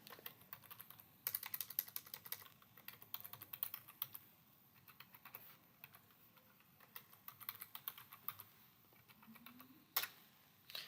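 Someone types a password on a computer keyboard, with quiet, irregular key clicks in short bursts, a few louder taps and brief pauses, close up in a quiet room with no talking.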